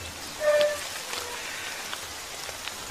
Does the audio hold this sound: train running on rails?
no